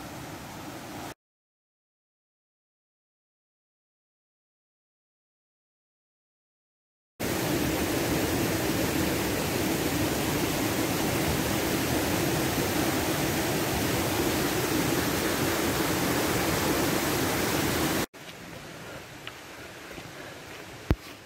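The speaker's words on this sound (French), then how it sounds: "Et voilà le ruisseau." A mountain stream in Tyrol rushes steadily as a loud broadband wash of flowing water, alone and continuous for about ten seconds, preceded by a gap of silence and followed by a quieter stretch.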